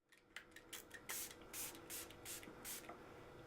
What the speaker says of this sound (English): And it's a fine spray.